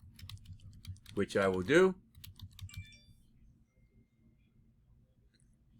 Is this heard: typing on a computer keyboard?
yes